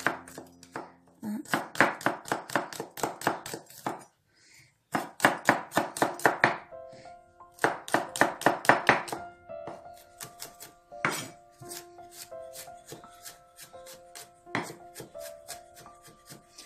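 Garlic is minced with a knife on a cutting board in a home kitchen, with rapid, steady chopping taps in bursts separated by short pauses, close and fairly loud, with no talk.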